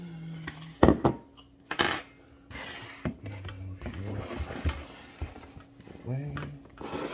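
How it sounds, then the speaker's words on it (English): A bowl fetched and set down in a home kitchen while making Bloody Mary linguine: several sharp ceramic clinks and knocks, a few louder thuds, with cutlery rattling and a voice speaking between the sounds. "Now, I'm going to get our bowl."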